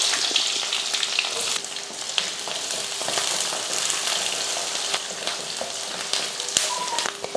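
Two large onions sizzle and crackle in hot oil in a kadai with mustard seeds and curry leaves, a steady loud frying hiss with occasional stirring clicks throughout.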